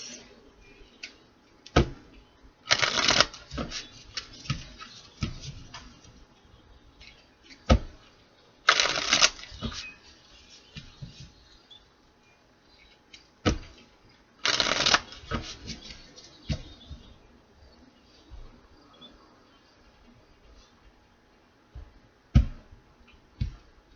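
Cards being shuffled several times, with loud riffling bursts and scattered taps and clicks between them, close by and otherwise quiet.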